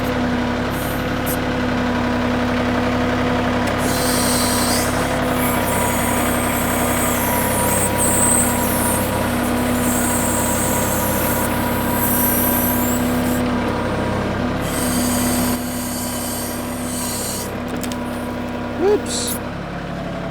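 Small digging machine engine idling and running steadily while trenching for a drainage fix on a property slope, a constant close rumble with a brief hiss, and someone talking over it at times.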